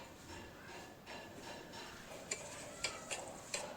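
Raw raj khoyra fish being hand-mixed with spices and a little chopped onion, giving soft, quiet squelching and rubbing with a few faint clicks near the end.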